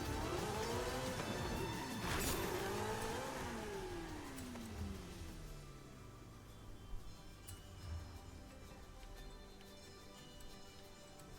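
A car in a racing video game, driven through a park, revs up and down in rising and falling sweeps, loud at first and then easing to a quieter engine drone with faint ticks.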